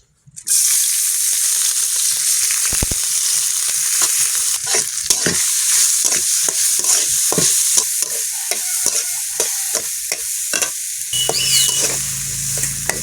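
Moong dal stirred in hot oil in a kadai for khichuri, a steady loud sizzle and hiss with repeated scraping strokes of the spoon throughout, no talking.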